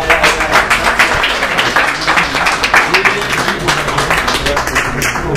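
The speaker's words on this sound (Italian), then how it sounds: "Salutiamo un applauso." Audience at a public meeting about an Abruzzo airport breaks into loud, continuous applause, a dense, close wall of clapping lasting several seconds with no talk over it.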